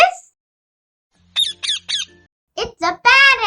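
Parrot giving a short series of loud, harsh squawks after a quiet start, followed by a voice speaking.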